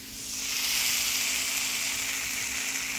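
Grilled cheese sandwich searing in a hot buttered pan, a steady, close, bright sizzle that swells in the first second and holds evenly, with no talking.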